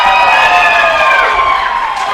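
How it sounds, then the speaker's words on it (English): A wrestling crowd at an Anarchy Wrestling TV show cheers and shouts loudly and continuously, a dense roar of voices with a few rising whoops. "The crowd is on fire here for Kevin Blue this week"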